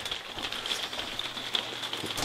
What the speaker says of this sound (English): The rain on the roof.